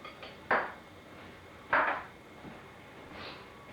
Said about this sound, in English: I'm just going to just stir that a little bit, just keep it from sticking to the bottom